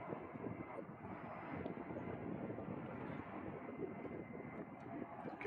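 An A-10 Thunderbolt II jet at an air show makes a steady, broad engine roar throughout as it comes in to land, moderately distant, with a faint breath of wind.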